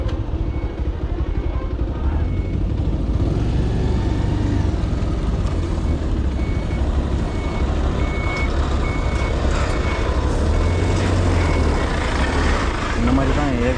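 Heavy road traffic with a bus rumbling close by on a rough, narrow local road, steady loud engine drone throughout, with a repeating electronic beep riding over the din.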